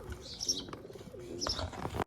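A pigeon perched by a water dish coos softly in two short, rolling bursts, close by but fairly quiet.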